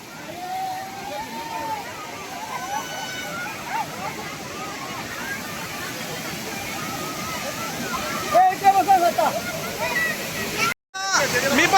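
A monsoon waterfall at Malanggad, a constant rushing roar of falling water with people talking and shouting over it near the end.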